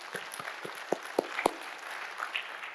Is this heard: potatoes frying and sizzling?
no